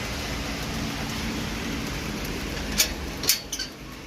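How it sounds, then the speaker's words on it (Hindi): Heavy rain falls outside in a continuous wash of hiss, and a few sharp clatters or knocks break through near the end. "देखो, एकदम से बारिश तेज हो गई।"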